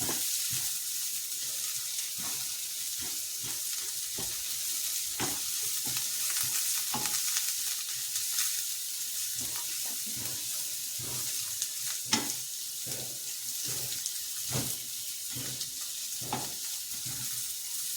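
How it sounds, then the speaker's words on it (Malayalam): Egg rice ingredients sautéed with biryani masala in a pan: a continuous bright sizzle runs throughout, broken by repeated scraping and stirring knocks from a spatula at an irregular, fairly quick pace, close up with no talk. "വേണമെങ്കിൽ നമുക്ക് കുറച്ച് ഈ ഇത് വഴറ്റുന്ന സമയത്ത് കുറച്ച് ബിരിയാണി മസാല ഇട്ട് കൊടുക്കാം"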